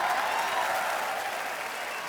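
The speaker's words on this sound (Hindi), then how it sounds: "तो जोरदार तालियों से स्वागत कीजिए" Studio audience applause at a Hindi comedy talk show, loud and steady with dense clapping throughout, fading slightly toward the end.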